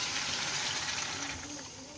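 Water poured into a pot of kunkiya fish curry while cooking, a steady gushing splash that is loud at first and eases slightly toward the end.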